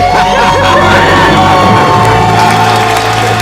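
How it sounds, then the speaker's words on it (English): Callers on a radio call-in show about paying off debt shouting a loud debt-free scream, a sustained burst of yelling and whooping voices that stays loud and continuous throughout. "Let's hear a debt-free scream."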